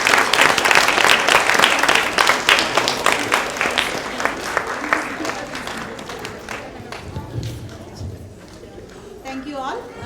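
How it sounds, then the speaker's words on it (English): An audience applauds students at an annual event, loud dense clapping that gradually thins and fades as murmuring voices and movement take over toward the end. "I think they deserve a round of applause"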